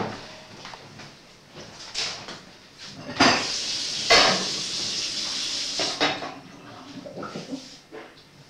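Dishes and cutlery clatter as someone washes up in a kitchen, with irregular knocks and clinks and a couple of louder bangs at a moderate distance, with no talking.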